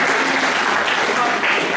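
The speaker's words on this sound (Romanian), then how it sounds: "Ok, o aplaudă." A school audience at a forum theatre performance at Liceul Tehnologic Dumitru Dumitrescu in Buftea claps steadily and fairly close, a dense wash of applause with voices mixed in.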